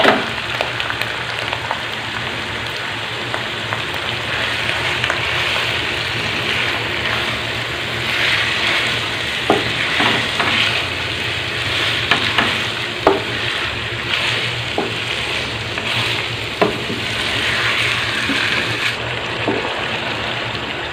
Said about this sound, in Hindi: अब हम इसमें मटन डाल देंगे।